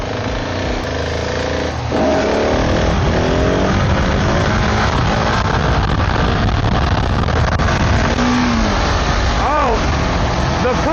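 KTM 690 single-cylinder motorcycle being ridden and stunted on a road, a steady loud engine roar with shifting revs and wind noise throughout, close to the rider.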